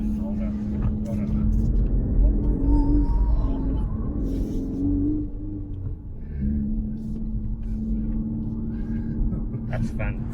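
A VW Golf R Mk8 is driven hard with traction control off, sliding sideways: a loud, continuous engine drone and road rumble that rises and falls, with voices faintly present.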